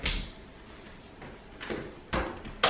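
A kitchen door is closed with a few soft, muffled clunks and a final latch-like knock, quiet and close by against a low room hiss.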